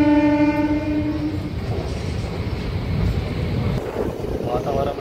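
MEMU local train pulling out of a small station on the Vijayawada–Machilipatnam line: a steady horn blast opens, then rolling wheel rumble and carriage rattle build as it departs, with faint voices around.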